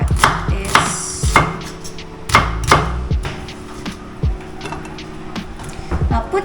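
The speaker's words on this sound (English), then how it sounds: "Now we chop this onion." Onion is chopped with a knife on a board for pork sinigang, giving sharp, irregular thuds and knocks at close range, some in quick pairs and others spaced out, with quiet background noise between the cuts.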